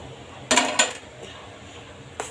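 A utensil scrapes and clinks against a bowl while jaggery and wheat flour batter is mixed, giving a few sharp, close knocks followed by softer stirring.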